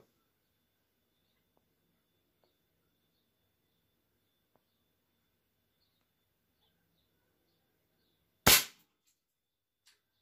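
A single sharp crack from a Stoeger F40 air rifle firing a pellet at metal animal-shaped targets outdoors, loud against near silence, followed by a faint distant tick.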